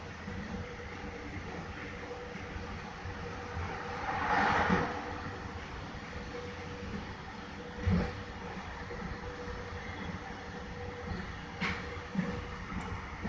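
Steady rumble of a SkyTrain metro train on the Evergreen Line running on its track, with a loud whooshing pass of an oncoming train around the middle and occasional clunks, no voices.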